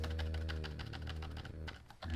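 Rapid keystrokes on a computer keyboard while Arduino code is typed, a steady run of close, even clicks over a constant low hum.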